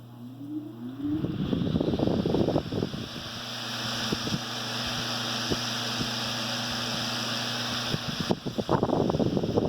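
An antique Emerson Jr electric fan, reworked mechanically and electrically, starts up with a rising whine, then settles into a steady hum with light rhythmic ticking and blade whoosh, close-up, with clattering handling noise at the start and end.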